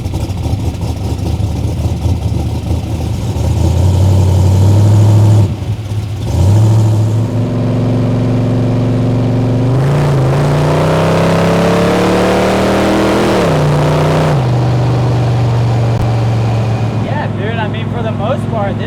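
A 1940s Chevy hot rod built in trophy-truck style rumbles through a deep idle, then pulls away with rising, revving engine tones. Heard up close from inside the car, with people talking over it.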